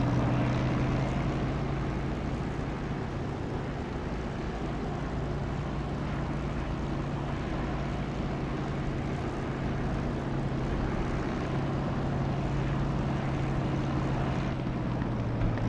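A propeller aircraft engine drones steadily while on landing approach in the DCS flight simulator game, a constant loud hum with a low tonal whine and no pauses, heard without talk.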